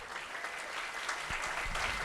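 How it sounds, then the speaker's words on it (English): Steady, fairly faint audience applause at an evening civics competition hosted by a county chamber of commerce, many hands clapping evenly in a large room, with a few louder low thumps near the end. "Let's give a warm round of applause, too, for those, even if you didn't finish in the top 5"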